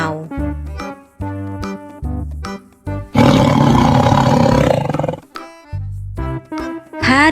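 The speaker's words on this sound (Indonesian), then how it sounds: "harimau," A tiger gives a loud, rough roar lasting about two seconds, set between stretches of bouncy children's music.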